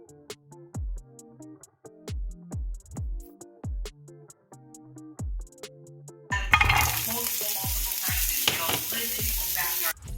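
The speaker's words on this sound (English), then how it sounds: "So now I'm sauteing the base of the fennel in a little bit of olive oil and a little bit of pink salt." Fennel base sautéing in a little olive oil with pink salt, first heard as a run of separate sharp taps and knocks, then a sudden loud, hissing sizzle that fills the last few seconds close up.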